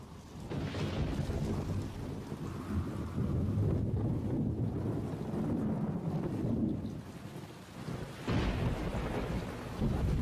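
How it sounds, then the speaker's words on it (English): A thunderstorm with steady heavy rain and wind buffeting the microphone, a low rumble of thunder rolling through most of the stretch and a fresh burst of rain and thunder near the end, no voices. "A rainstorm can be deadly."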